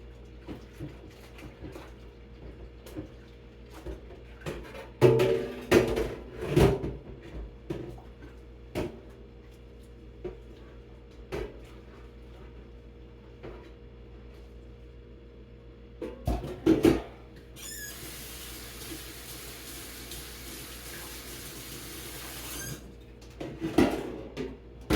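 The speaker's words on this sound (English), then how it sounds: "now I'm going to wash this pan out that I cooked the turkey in" Dishwashing clatter from a turkey roasting pan being scrubbed and rinsed in a sink, with bursts of metallic knocking and scraping around the middle and end and a stretch of running water, all fairly close with no talk.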